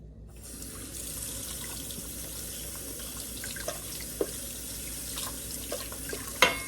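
Running tap water pours steadily into a sink while a scrubbed kitchen item is rinsed beneath it, a constant rushing stream with a few small knocks near the end.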